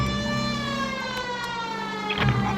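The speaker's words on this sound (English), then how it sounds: "Got the siren on." Police car siren in the game L.A. Noire, a sustained wailing electronic tone with stacked harmonics holding steady, loud and close, with a brief engine or impact thump near the end and no voices.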